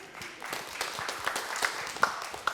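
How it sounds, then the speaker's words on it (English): Scattered audience members clap at a leadership talk, a thin, uneven patter of individual claps rather than full applause, moderately quiet with a few sharper hand strikes standing out. "Go ahead and clap if you're from Gilroy."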